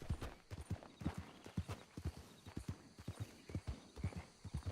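Horse hooves clip-clop in a steady, even rhythm in a video game, close and clear with no other sounds over them.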